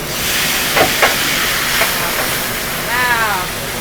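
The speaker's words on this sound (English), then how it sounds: "And you hear that sizzle?" Steady sizzling hiss from tomatoes frying in a hot pan, with a few brief vocal sounds cutting in over it.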